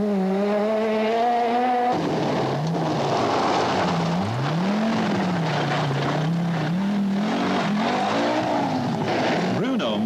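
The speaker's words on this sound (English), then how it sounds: "Disturbing the silence of the forest is the distinctive note of Millen's Mazda as he hurtles into view." A Mazda rally car engine wails through a forest stage during the 1984 Rally Week Northwest, its note rising and falling loudly as it shifts gears and hurtles past close by.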